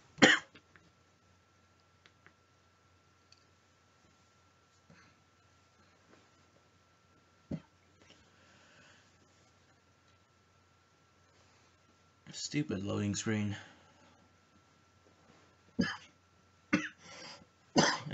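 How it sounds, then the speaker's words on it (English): Several sharp coughs break out near the microphone, one early and a cluster later, with brief speech in between. "Excuse me for my coughing."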